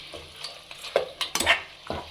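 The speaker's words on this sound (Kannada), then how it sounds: "ಮಿಕ್ಸ್ ಮಾಡ್ಬಿಡೋಣ, ಬೇಯ್ತಾ ಇರಲಿ" Tender mutton chops, village style, simmer in an open pot instead of a pressure cooker. A spatula scrapes and clacks through them in quick, uneven strokes over a soft sizzle, heard up close with no talking.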